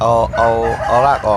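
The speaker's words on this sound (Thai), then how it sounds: "ตอนเช้าๆนะครับเสียงไก่คงไก่ขันนะครับเพียบเลยนะครับ" Several long, loud rooster crows in quick succession on a morning in a Thai garden where a desert rose plant is being root-pruned, someone speaking briefly over them.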